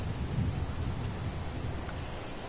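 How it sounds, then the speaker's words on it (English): Heavy rain pours in the video game Heavy Rain, a steady loud downpour hiss with a low rumbling undertone like distant thunder, unbroken and without voices. "It's pouring rain."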